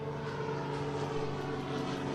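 A British propeller plane flies overhead with a steady, droning engine hum that holds evenly throughout, moderately loud, with no voices.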